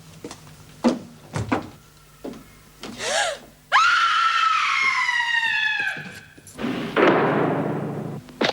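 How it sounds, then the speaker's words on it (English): A woman in a women's prison screams loudly and at length, a sustained high wailing cry following a few sharp knocks and gasps, with another burst of yelling at the end. "she yelled loud enough"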